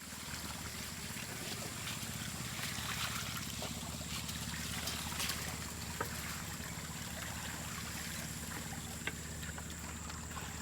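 Water flows and trickles steadily through gold prospecting equipment outdoors at Cottonwood, Indiana, a constant watery wash over a low engine-like drone, with no voices.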